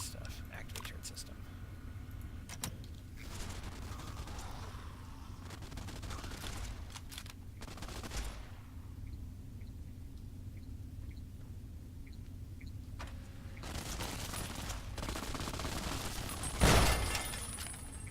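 Turret gunfire in a modded Fallout video game: bursts of rapid firing come in waves, with a sharp, loud blast near the end, while people talk quietly over much of it.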